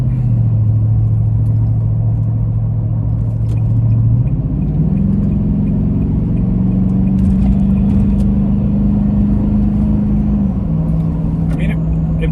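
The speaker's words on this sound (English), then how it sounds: "So we're just on the road, a little bit of potholes, a little bit of rough roads" Toyota Tundra half-ton pickup fitted with Air Lift 5000 air bags driving over rough, potholed road, a loud steady interior drone of engine and tires with a low tone that shifts pitch partway through, and someone talking over it.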